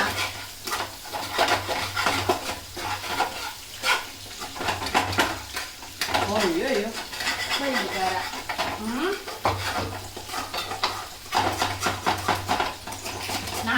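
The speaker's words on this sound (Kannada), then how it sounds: "ಒಂಚೂರು ಎಣ್ಣೆ ಹಾಕ್ಬಿಟ್ಟು ಅನ್ನ ಮಿಕ್ಸ್ ಮಾಡಿ" Cooked rice being mixed with a little oil in a metal pot, with repeated scraping and clattering of a spoon against the vessel in uneven bursts, close by, while people talk intermittently.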